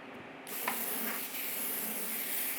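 Steady broadband hiss of an aerosol or spray gun laying down clear coat on a 1/4-scale Aquaman statue casting, starting abruptly after a brief quiet moment and continuing close and loud with a few slight pulses.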